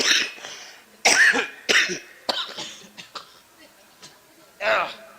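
Coughing from a man during a comic Hindi Ram Katha performance, several harsh, loud coughing bursts spaced irregularly with throaty voiced sounds between them.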